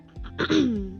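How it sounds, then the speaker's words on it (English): A single short throat clearing, close and fairly loud, a brief raspy rumble. "Sorry, I keep clearing my throat."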